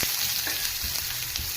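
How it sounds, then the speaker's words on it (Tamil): Carrots sauté in hot oil with cumin and chili in a pan for carrot chutney, giving a close, steady sizzle with soft stirring scrapes and no talking. "கேரட் நல்லா வதங்கணும்."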